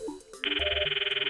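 Phone ringing in the visual novel game Steins;Gate Elite: an electronic ringtone starts abruptly and pulses rapidly and evenly, loud and close, with no talk over it.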